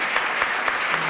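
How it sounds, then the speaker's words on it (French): A studio audience applauds a guest on a French evening talk show, a short steady burst of many hands clapping at moderate loudness. "je veux venir avec Maud Chirio, qu'on peut applaudir bien fort"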